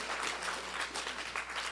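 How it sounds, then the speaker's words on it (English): An audience at a retro gaming expo auction applauds in a steady, distant wash of clapping that carries on without talk. "Let's give them all a nice big round of applause."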